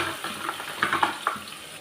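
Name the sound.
mustard, fenugreek and onions sautéing for fish curry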